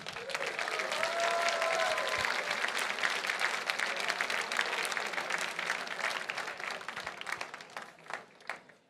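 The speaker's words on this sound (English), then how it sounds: "One more round of applause, everyone" Sustained applause from a large gala audience fills the room, dense and steady, tapering off near the end, with a voice briefly heard near the start.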